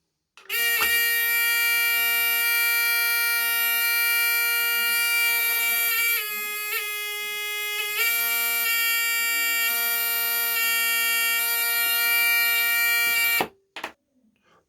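A harsh, steady electric buzzer in a school physics circuit of switches and bulbs drones continuously for over ten seconds, shifting pitch briefly midway, then cuts off abruptly.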